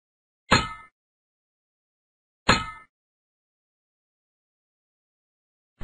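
A hammer striking, two sharp isolated blows about two seconds apart with brief ringing decays, near and distinct, and the start of a third blow at the very end.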